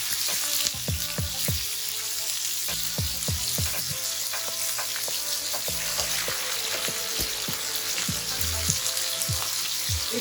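Salmon fillets fry skin side down in a pan with a steady loud sizzle and frequent crackling pops, close up and without speech.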